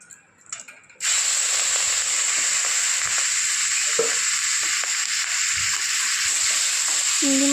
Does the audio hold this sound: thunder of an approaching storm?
no